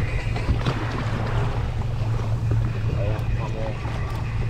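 The engine of a fishing boat out after Spanish mackerel off the Gold Coast runs with a steady low drone and water noise throughout, while people talk over it.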